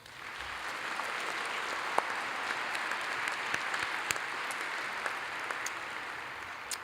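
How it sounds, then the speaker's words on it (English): Steady applause from a large audience at a fall university commencement ceremony, continuous and even throughout, with a few sharper individual claps standing out near the front. "Please join me in a round of applause."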